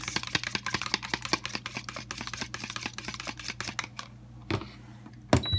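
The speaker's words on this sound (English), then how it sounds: "we're going to whisk our eggs" Eggs whisked with a little milk in a bowl, a quick steady run of light clicking whisk strokes that slows and stops near the end.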